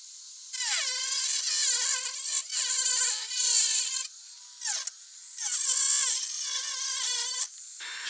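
A small high-speed rotary power tool cuts through the plastic inner ring of a Ford F150 headlight housing, whining in repeated bursts that dip in pitch as the blade bites, separated by short pauses of near silence.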